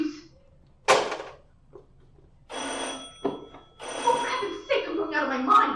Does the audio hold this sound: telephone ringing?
yes